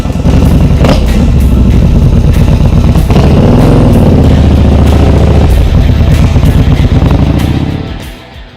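A Yamaha Bolt motorcycle rides along the road, its engine loud and steady throughout with rising and falling revs as it shifts, fading near the end.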